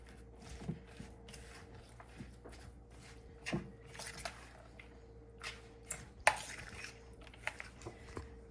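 A spoon stirs lemon juice and salt in a bowl, giving faint, scattered clinks and soft wet squishes in a quiet kitchen.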